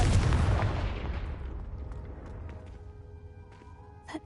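Confringo blast spell from the Hogwarts Legacy video game: one loud booming explosion at the start that slowly fades into a long rumbling tail, followed by a few faint clicks and tones.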